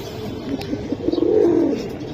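Pigeons kept in a loft coo up close, a soft throaty burbling that builds into a rolling run of notes through the middle, alone over a quiet background.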